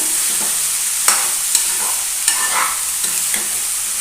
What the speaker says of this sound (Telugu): ఇప్పుడు వీటిని ఇందులో వేసేసి కలిపిద్దాం ఒకసారి